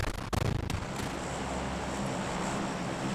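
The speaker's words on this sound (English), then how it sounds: "you can run over to the tables and pick up any gun in the game you want and shoot your heart away" Gunfire in the PUBG video game starting lobby, a sharp close shot followed by a rapid burst of shots, then a rumbling ambient roar that carries on without talk.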